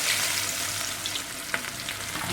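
Chicken leg pieces deep frying in hot oil over a low-to-medium flame give a steady, close crackling sizzle throughout, with one brief sharper pop partway through and no voices.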